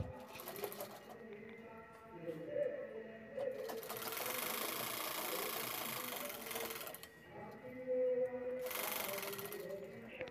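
A sewing machine stitches a zip onto a fabric tote bag, its rapid mechanical whirring coming in bursts of several seconds between pauses, close by and at moderate level with faint background sounds around it.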